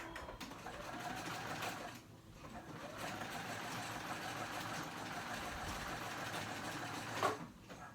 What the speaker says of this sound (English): I'm gonna zigzag stitch those two together, overlapping 1/4 of an inch